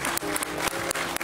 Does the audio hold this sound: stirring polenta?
no